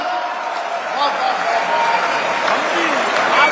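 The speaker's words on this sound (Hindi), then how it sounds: "तालियां जोरदार" Audience applause at a Holi poetry gathering (kavi sammelan), a steady broadband wash of clapping from a crowd running throughout, with a voice faintly heard over it.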